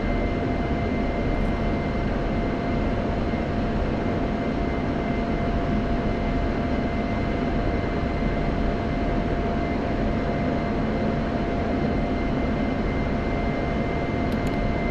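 An F-16 Viper jet flies in a flight simulator game during a night training sortie over Syria, its engine a steady, unbroken roar with constant tonal whine that holds level throughout, with no talking.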